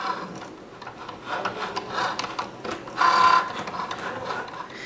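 A Cricut Joy cutting machine slices through smart vinyl with a steady whirring, grinding hum and rhythmic rasping strokes, rising briefly to a louder whine partway through, with no talking.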